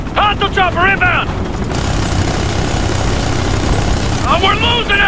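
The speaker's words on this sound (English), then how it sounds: "Hostile chopper inbound!" An enemy helicopter in Ghost Recon: Future Soldier, a loud continuous rotor and engine roar under bursts of shouted voices at the start and end.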